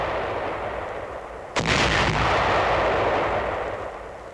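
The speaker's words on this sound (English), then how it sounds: "These anti-personnel shoe mines are exploded 4 at a time." A single heavy, booming blast as a group of four anti-personnel shoe mines is detonated together in a wartime minefield clearance, standing out against a steady background hiss and rumbling away slowly.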